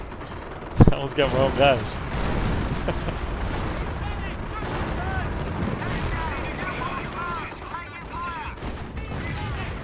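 Artillery fire in the PC strategy game Company of Heroes, with a sharp blast early on, then continuous rumbling explosions and battle noise throughout, while someone talks over it.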